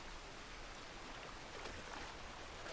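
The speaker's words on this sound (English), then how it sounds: "Look, it's raining now. Look at that rain." Rain falls in the open world of Red Dead Redemption 2, a soft, steady hiss of drops at low level with no voices over it.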